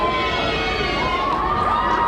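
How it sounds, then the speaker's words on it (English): A large outdoor crowd at a governor's inaugural parade in Trenton roars with loud, sustained cheering and shouting, including high children's voices, steady and dense throughout. "You can hear the big cheers for the governor right now."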